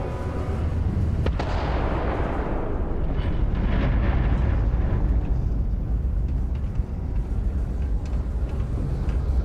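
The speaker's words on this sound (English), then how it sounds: "Particle detonation concluded." Particle detonation explosion in Starfield: a huge, deep rumbling blast that rolls on continuously, dense low roar with scattered cracks and debris rattling throughout, loud and sustained without talk.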